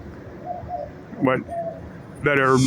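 Birds outdoors keep up a soft, steady cooing with brief calls mixed in, fairly near, under a voice.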